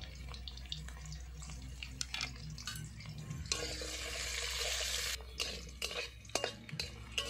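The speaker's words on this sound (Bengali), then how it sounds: "তেল গরম হয়ে গেছে, আলুগুলো দিয়ে দিলাম।" Potatoes frying in hot mustard oil in a wok, a soft sizzle broken by stirring and pan clatter, with a louder burst of frying noise in the middle.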